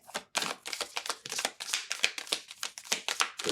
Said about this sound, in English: Get a nice shuffle on those.